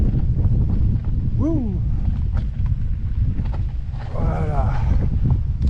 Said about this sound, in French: On a récupéré le vent ici.